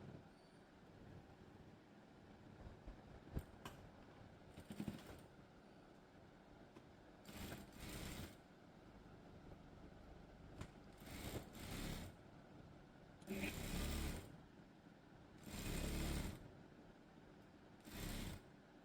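A sewing machine stitches the side seam of a school uniform top in short, quiet bursts of rapid running, separated by pauses while the fabric is repositioned.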